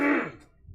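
A man clears his throat once, close and fairly loud, a short harsh burst that fades into quiet, during a Queen of the Hill match broadcast.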